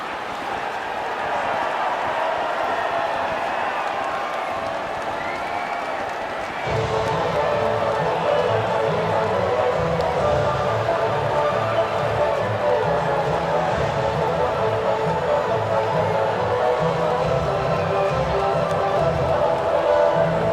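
A crowd cheers at the podium after the Singapore Grand Prix in the racing game F1 24, a steady, continuous roar that grows fuller partway through, with voices talking over it.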